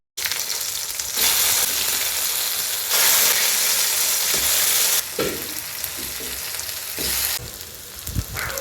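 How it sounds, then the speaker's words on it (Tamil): Fish fries in oil on a dosa griddle, giving a loud, dense sizzle that swells and drops in bursts, with a few crackles and pops near the end, and no talk. "தோசைக்கல்ல எண்ணெயை ஊற்றி நல்ல எண்ணெய் காஞ்ச பிறகு அந்த மீனை எடுத்து அழகாக போட்டுருங்க"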